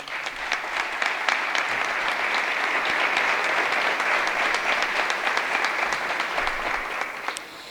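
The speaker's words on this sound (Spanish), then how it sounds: "Pido un aplauso para él." Sustained audience applause in a theatre in Abarán during a tribute event, a dense, full, even roar of many hands clapping that holds steady and eases off slightly at the end.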